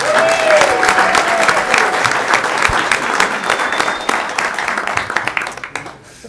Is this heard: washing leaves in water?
no